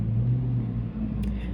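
Cars passing outside, a low, steady rumble of traffic heard from indoors, moderately loud and continuous, with no talking over it.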